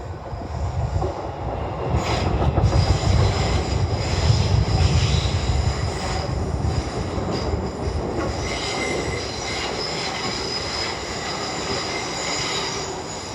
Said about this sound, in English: London Northwestern Railway service to Crewe.